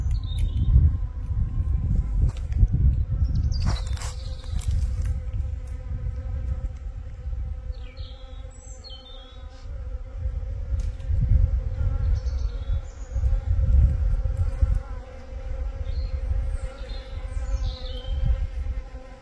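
Bees gather water in a flowering honey forest in May, their steady close buzzing humming on for the whole stretch, swelling and easing, with faint bird chirps scattered above.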